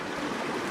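Water rushes steadily through a drainage trench in a dense, even wash of noise that stays close and constant for a brief moment.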